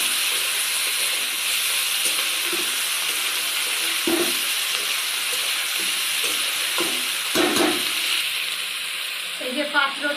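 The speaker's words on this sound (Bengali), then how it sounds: "মাখানো মাছটা আমি আস্তে আস্তে তেলের মধ্যে দিয়ে দেবো। খুন্তি দিয়ে একটু ভালোভাবে নেড়ে দেবো।" Marinated mourala fish sizzles in hot oil with a loud, continuous hiss. Occasional spatula scrapes and knocks come through near the end.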